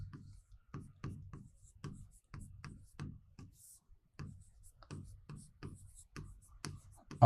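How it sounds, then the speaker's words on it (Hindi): Pen writing on paper, a rhythmic series of short scratchy strokes, each a quick soft scrape with brief gaps between, close and quiet, a few light clicks mixed in, no speech. "हम इसको लिखते हैं"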